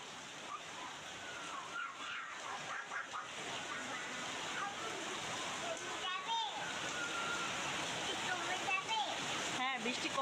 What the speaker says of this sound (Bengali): মনে হয় সারা দেশে এরকম ঝুম বৃষ্টি পড়ছে।